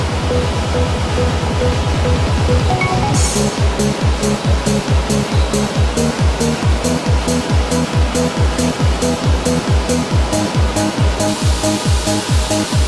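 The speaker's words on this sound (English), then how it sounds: "Root veg such as potatoes, carrots and parsnips are washed to remove soil, stone, insects and other contamination" Water pours and sprays continuously over potatoes, carrots and parsnips being washed of soil, stones and insects, a loud rushing stream joined by a regular mechanical pulsing from the washing equipment.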